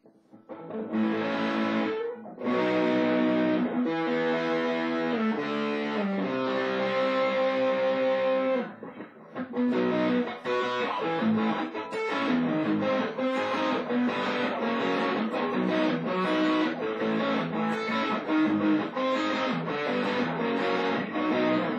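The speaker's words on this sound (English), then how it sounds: "let you hear what that sounds like pre-distortion. So this is just the overdrive quality." Electric guitar through a Whizzer Kreamy Kruncher overdrive pedal, neck pickup, warm overdriven crunch playing chords and riffs continuously, loud and close, with a brief pause partway through.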